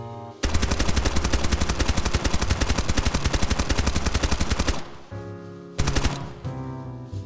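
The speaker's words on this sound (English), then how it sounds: "I'm going to hold down left click and I'm not going to try and control the recoil" Sustained automatic gunfire held without recoil control in the video game Escape From Duckov, a loud rapid stream of shots lasting several seconds, then a pause and a second short burst.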